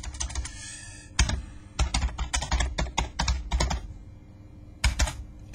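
Fast, irregular clatter of keystrokes on a new computer keyboard, close and fairly quiet, with short pauses between bursts and no voices.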